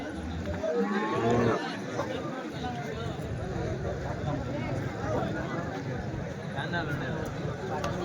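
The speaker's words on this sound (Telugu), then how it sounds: "ఈ వారం సంతలో చూడొచ్చండి ఆవులు." Cows mooing at a busy weekly cattle market, a loud nearby low moo early on, then a dense bed of crowd chatter and livestock noise throughout.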